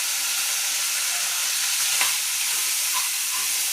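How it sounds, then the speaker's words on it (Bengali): Ginger garlic paste hits deeply fried onions in a pan, giving a steady close broadband sizzle throughout with a brief sharper crackle near the middle and no voices. "আদা রসুন বাটা অ্যাড করে দিলাম"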